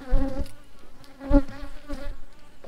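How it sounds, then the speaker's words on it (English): Angry honey bees swarm around a hive in a Jamaican bee yard after honey has been pulled. Their buzzing is close and uneven, rising in a few loud passes as individual bees fly near. "the bees are pretty much everywhere and they're trying to sting everything"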